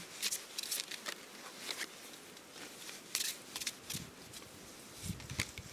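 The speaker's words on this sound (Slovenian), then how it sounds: "Danes pa karte kar same letijo ven." Angel oracle cards being shuffled and drawn from a deck: a quick, close run of papery riffling and flicking bursts, with no talking.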